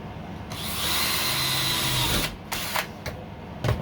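A power drill boring holes through thin aluminum sheet, loud and close, with a sustained whining run followed by several short bursts.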